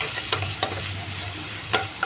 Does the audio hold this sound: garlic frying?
yes